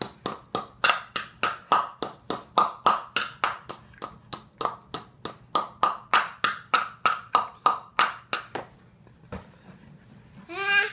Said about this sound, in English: I want you to clap your hands, you little silly goose.